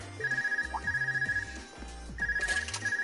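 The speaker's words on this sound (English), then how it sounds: "Looks like I've got a call coming in." A melodic phone ringtone from the video game Trails of Cold Steel chimes in repeated rhythmic bursts, loud and clear, with a short pause between phrases and no talk.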